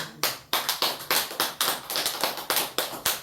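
Rhythmic clapping from a church congregation, each sharp clap clearly separated in a brisk, even beat of roughly four per second, close and loud with no voices over it.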